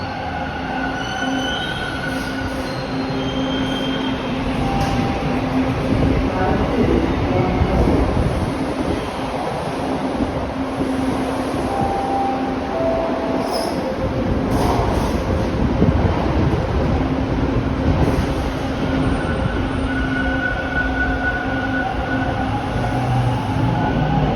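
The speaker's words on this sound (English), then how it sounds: "And then I can see the train leaving over there." A Toronto subway Line 2 train pulls out of a station, its steady rumble rising and falling with wheel squeals and clatter over about twenty-four seconds, loud and close with no talking.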